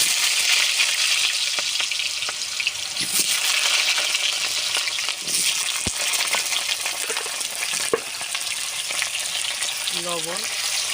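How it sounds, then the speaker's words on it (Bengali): Potato pieces sizzle and fry in hot mustard oil in a wok, a dense continuous crackle close up with occasional stirring scrapes and clinks, no talking. "দিয়ে দেবো কড়াতে সরষের তেল। তেলটা গরম হয়ে গেছে, আলুগুলো দিয়ে দেব।"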